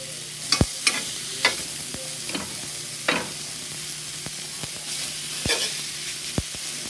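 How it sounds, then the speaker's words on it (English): Pork chops sear in a hot pan with olive oil, a continuous close sizzle broken by several sharp taps and scrapes of a utensil against the pan. "Got a little olive oil to start this off and get that pan so seared and hot."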